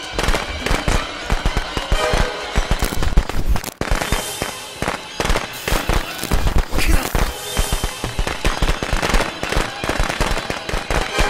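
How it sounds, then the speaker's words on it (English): Fireworks bursting in Friday the 13th The Game, a rapid, loud barrage of crackling and popping explosions layered densely over one another, with a brief dip midway before the volley resumes. "It's raining fireworks."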